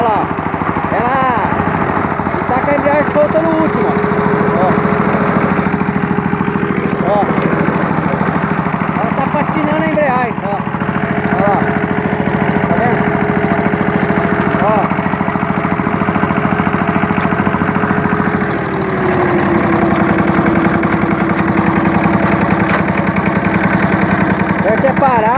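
A Yanmar Tobata walk-behind tractor with a loose clutch runs at a steady, loud idle, its engine drone continuous and close throughout, with a slight drop in pitch near the end and voices talking over it.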